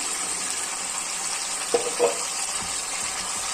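Garlic ginger paste sizzles in a mutton karahi, a steady close frying hiss with a couple of brief stirring scrapes or clinks near the middle, and no talk.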